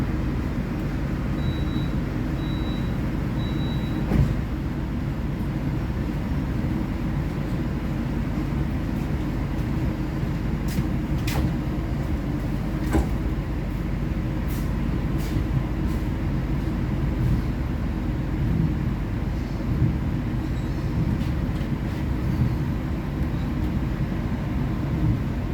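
The Gumarang passenger train pulls out of Cirebon station, heard from inside as a steady, loud low rumble of wheels and carriage that runs throughout. Brief faint beeps sound near the start, with a few light clicks later.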